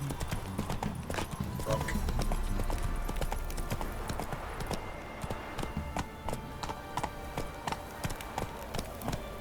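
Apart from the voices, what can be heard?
Geralt's horse Roach galloping in The Witcher 3 video game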